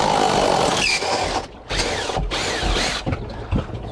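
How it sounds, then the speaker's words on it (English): An impact driver with a 1-inch socket loosening the bolt on a cartridge pool filter, giving loud, rattling hammering bursts broken by brief pauses, close up and with no talk. "I use an impact driver because using a wrench, it's a lot slower."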